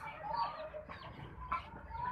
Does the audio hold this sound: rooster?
yes